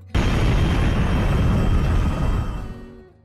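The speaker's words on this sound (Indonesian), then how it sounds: "Mereka pun meledak bersama di tempat yang sepi." A loud explosion in a film, a deep booming blast that hits at once and rumbles on for about two seconds before fading out.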